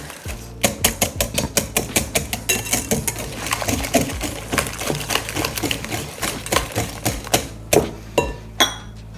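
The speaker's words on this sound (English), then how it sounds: "Straight in, give them a little bit of a mix just to break up those whites." Eggs are beaten in a bowl for banana chocolate chip muffins, with a utensil striking the bowl in quick, rhythmic clinks and taps that pause briefly near the end.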